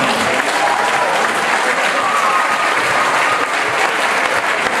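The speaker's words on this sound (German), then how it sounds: "Ein ganz großer Applaus für ihn." A large crowd at a football club's year-end celebration claps hard in a long, even, continuous round of applause.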